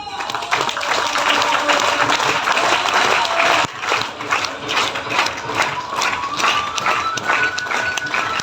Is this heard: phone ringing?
no